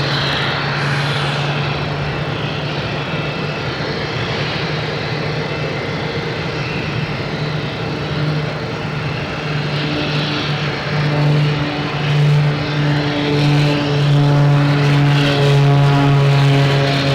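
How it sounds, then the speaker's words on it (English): A Cape Air propeller airplane takes off at Boston Logan International Airport, its steady engine drone and tonal hum holding loud and near, swelling toward the end as it climbs away, with no voices. "Next taking off is a Cape Air heading to Iceland."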